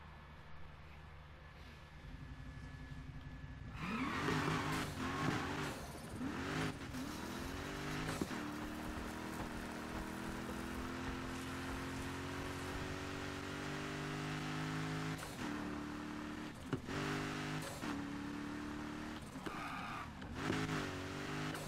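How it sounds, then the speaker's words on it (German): A car engine in the video game Need for Speed Heat revs and holds a rising whine while drifting, with brief gear shifts and throttle dips, loud and steady after a quieter opening. "dann gehen wir noch den Drift mit"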